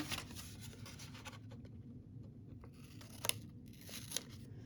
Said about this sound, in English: So I am going to cut this off. Just make a little snip there.